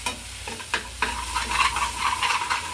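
A spoon stirs pirandai (adamant creeper) chutney in a pan over a low flame. Scraping strokes come at an irregular pace over a soft, steady sizzle, close and clear, with no talking.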